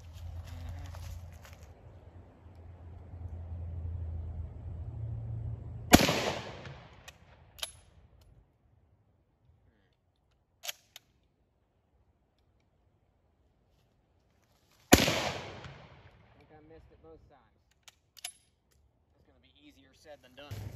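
Two sharp, loud rifle cracks from a Lee-Enfield SMLE Mk III* and an Ishapore 2A1 fired at a thin wooden shovel handle, spaced about nine seconds apart, each with a short outdoor decay and a few faint clicks between.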